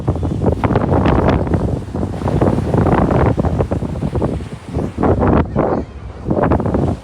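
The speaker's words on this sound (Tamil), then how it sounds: "பயங்கர காற்று அடிக்குதா." Strong wind blows across a beach at Addalaichenai, loudly buffeting the microphone in rough, continuous gusts, with surf faintly beneath and a few brief dips.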